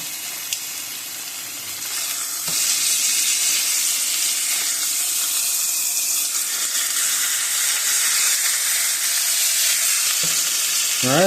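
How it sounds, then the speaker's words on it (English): Beef pieces sear in a hot pan with a steady, loud, crackling sizzle that runs unbroken for about eleven seconds, with an occasional faint clink near the end. "remember we're not cooking this, we're just giving it a nice sear"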